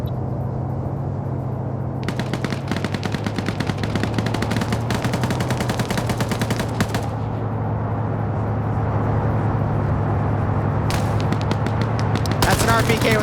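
Sustained bursts of RPK machine gun fire with a 45-round magazine in an Arma PvP match, rapid crackling volleys close up over a low engine drone, with commentators talking throughout.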